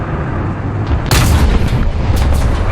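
A tank cannon in War Thunder fires a sharp, loud blast partway through, followed by a rumbling boom and smaller shots over a constant engine and battle din.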